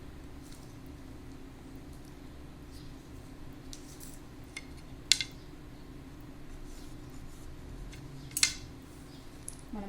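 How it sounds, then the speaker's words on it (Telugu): Scissors cutting blouse cloth along a marked line, producing a few faint, sharp snips over a low steady background hum. "మనం మార్క్ చేసుకున్న విధంగా కట్ చేసుకోవాలి."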